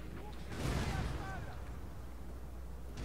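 Cannon fire in Napoleon: Total War, a distant artillery boom swelling then rolling off amid a steady, low rumble of battle ambience, with a voice talking over it.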